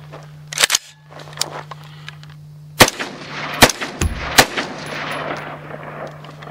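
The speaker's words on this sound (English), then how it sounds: "this rifle is very loud when you shoot it" An AR-15 rifle fires several sharp, loud shots spaced irregularly over a few seconds, each one a sudden crack over a low steady hum.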